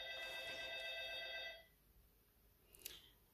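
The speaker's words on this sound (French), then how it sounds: "ça sonnait à l'interphone" An intercom buzzer sounds a steady electronic tone for about a second and a half, then cuts off, leaving a quiet room with a faint tap.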